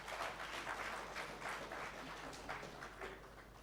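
Audience hands clapping after a talk at a national livestock census results event, a steady, fairly faint patter of applause heard on its own without voices.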